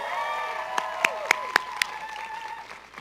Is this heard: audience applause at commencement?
yes